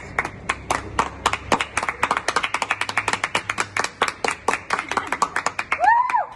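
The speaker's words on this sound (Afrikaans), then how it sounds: "Wie klapt het?" A person claps hands in a quick, even rhythm of about thirty sharp claps, close and loud, ending in a brief rising whistle-like tone.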